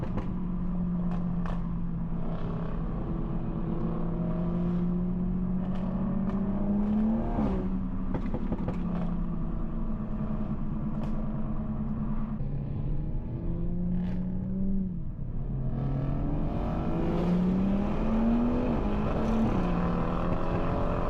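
A 2020 Toyota Supra's engine drones loudly and steadily while drifting, holding a sustained roar that dips and climbs in pitch with shifts and throttle changes, continuous and close throughout.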